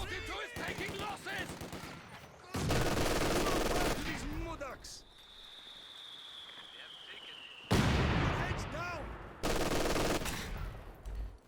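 Rapid bursts of Soviet PPSh submachine gunfire crackle through a Company of Heroes 2 battle, loud volleys broken by quieter gaps and a whistling shell, while a commentator talks over the action.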